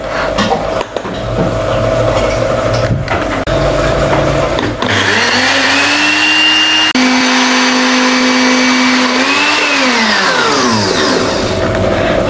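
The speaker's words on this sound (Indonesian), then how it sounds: "Setelah itu tinggal kita blender saja sampai halus." A mini blender grinds a garlic mixture with no water added. The motor whines loudly and continuously, and its pitch sags and then climbs again as the blades work through the thick paste.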